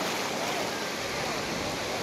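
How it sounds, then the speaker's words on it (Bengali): Big sea waves rolling onto Kuakata beach in Bangladesh, a brief burst of continuous roaring surf and wind-buffeted hiss, loud and close, with no clear speech. "বিশাল ঢেউ"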